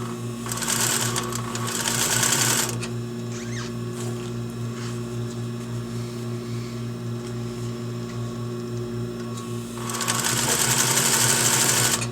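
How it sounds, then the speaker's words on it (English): A sewing machine stitches a zipper into a slipcover, running in two loud close bursts at the start and end with a steady low motor hum and quieter mechanical ticking between them. "I do need to make sure that I'm not stitching through those teeth."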